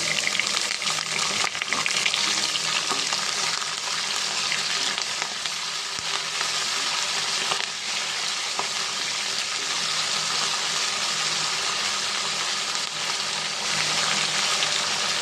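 Curry leaves and coriander fry in hot oil while making Andhra-style tamarind pulihora, giving a steady, close, loud sizzle and crackle that runs unbroken throughout with no talking.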